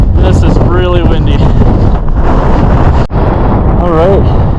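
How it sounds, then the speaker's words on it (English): Loud, blustery wind on the summit of Mount Elbert buffets the microphone in heavy gusts, with people talking underneath. "This is really windy."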